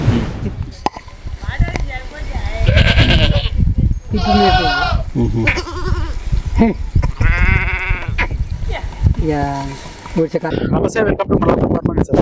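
A herd of goats on a goat farm bleats loudly and close by, with repeated calls spread across the scene. A person talks over the steady background of animal and farm noise.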